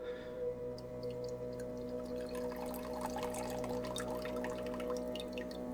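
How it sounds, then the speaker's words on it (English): Water pours from a jar into a water bowl at a paddle-and-anvil pottery workspace. Faint trickling and splashing builds after a couple of seconds over a steady background hum. "I'm going to take my water jar here and use it to fill up my water bowl."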